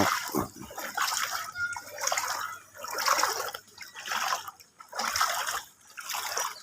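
Sloshing, splashing water from someone wading through floodwater on a road, in steady surges of stepping with brief pauses, close and fairly loud, with no talk over it.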